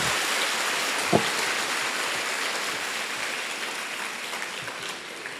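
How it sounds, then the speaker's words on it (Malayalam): An audience at a children's fellowship annual conference applauds, a dense, sustained clatter of clapping hands that holds steady and fades slightly toward the end. "കൈയടിച്ചാട്ട് എല്ലാവരും."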